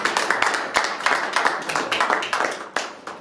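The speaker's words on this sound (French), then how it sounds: "Je crois qu'on peut quand même vous applaudir." A small group applauds a couple at a wedding, with uneven, fairly close clapping that keeps a steady patter throughout.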